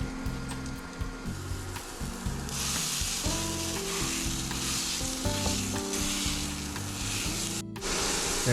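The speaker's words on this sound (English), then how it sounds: "So what I'm going to do is brown this sausage here," Sausage browning in a frying pan gives a steady, close sizzle that runs throughout, with occasional scraping from stirring.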